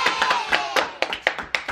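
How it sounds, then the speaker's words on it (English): A small group claps in a sparse, uneven round, with a handful of distinct, close hand claps at irregular intervals rather than a full wash of applause. "So, yet again, big round of applause."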